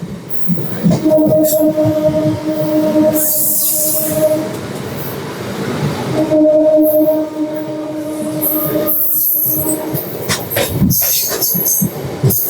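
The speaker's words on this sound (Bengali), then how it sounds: "ট্রেন আমাদের অন্ডাল স্টেশন ছেড়ে বেরোচ্ছে" A MEMU passenger train pulls out of Andal station, its electric motors whining in steady tones over rumbling wheels and rail clatter, loud and close, with brief hiss bursts and a faint voice near the end.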